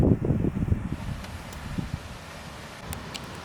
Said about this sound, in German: Das ist schon ordentlich Sturm jetzt.